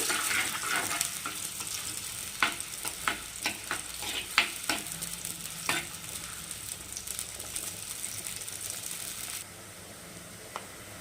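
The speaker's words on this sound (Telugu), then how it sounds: "ఉల్లిపాయలు వేయించుకోవాలండి" Onions frying in oil for Andhra-style fish curry make a continuous close sizzle, broken by a run of sharp clicking scrapes from a spoon stirring against the pan before the hiss settles quieter near the end.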